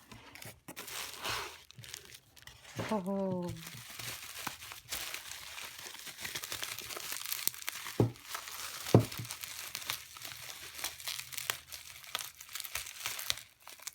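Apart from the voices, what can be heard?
unboxing a wrapping-paper stamp, crinkling packaging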